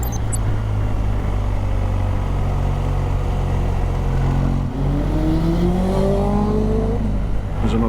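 A racing motorcycle at the Isle of Man TT rounds a corner near Sarah's Cottage, its loud engine note rising and sweeping as it passes close, over a constant heavy rumble of a nearby engine.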